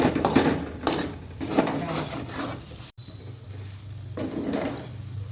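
A spoon scrapes and clatters steadily against a wok as green pea kachori filling is stirred continuously, with a faint sizzle beneath, close and fairly loud, with one brief break midway.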